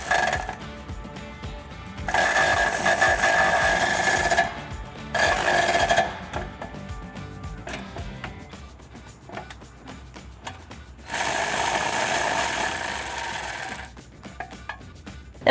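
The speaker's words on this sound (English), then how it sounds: "we can go ahead and tighten down the bolts that are connecting the step to our bracket here with the same 13mm" Ratchet with a 13mm socket tightening bolts on a side step bar bracket of a Toyota Tacoma Double Cab, close rasping clicks in several sustained bursts separated by pauses and quieter handling noise.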